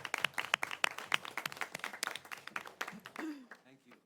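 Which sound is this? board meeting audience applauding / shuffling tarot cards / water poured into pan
board meeting audience applauding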